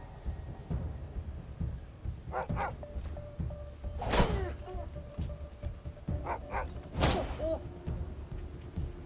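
Dog barking in the video game Wasteland 3 during combat, several sharp barks and yelps in bursts over a busy low background of game sound.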